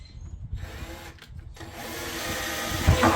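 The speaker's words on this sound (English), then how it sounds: "we're going to drill some holes." Holes being drilled through a motorcycle trunk on a Harley Street Glide, a buzzing power-drill whine that starts and stops briefly, then runs steadily louder toward the end, close by with no talking.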